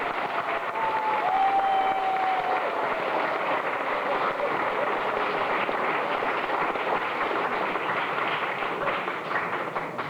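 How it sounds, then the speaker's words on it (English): Applause from the guests at a family reunion meal, a dense, steady patter of many hands filling the room evenly for about ten seconds, moderately loud, with a faint voice or tone drifting through early on. "let's give them a big round of applause"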